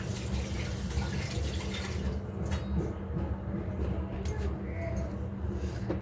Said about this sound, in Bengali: আমি একটু হাতটা ধুয়ে নিই